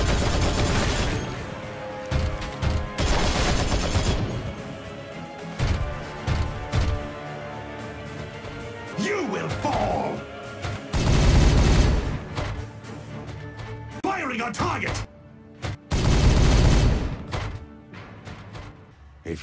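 Gunfire rages through a Regicide video game battle, with dense bursts of shots and booming blasts arriving in loud clustered volleys that come and go, under occasional shouted voices.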